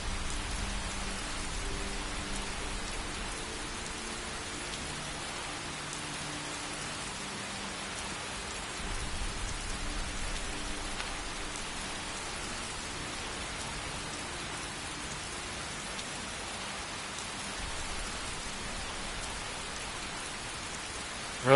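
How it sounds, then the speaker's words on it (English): Steady rain falls in Skyrim, a continuous even hiss of drops pattering on surfaces, with a faint low rumble now and then and no voices. "Rain, rain."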